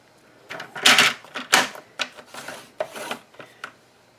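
A scoring tool rasps along paper on a scoring board while an adhesive caddy is made, a series of close, scratchy strokes of varying length with short pauses between them.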